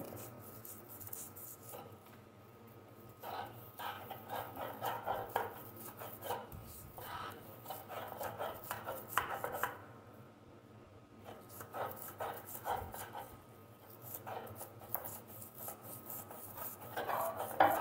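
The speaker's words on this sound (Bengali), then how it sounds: "ভালো করে মিহিন করে বেটে ফেলবো আদাটা" Ginger being ground into a fine paste by hand, a steady run of rough scraping and knocking strokes in short bursts with brief pauses, close and moderately loud.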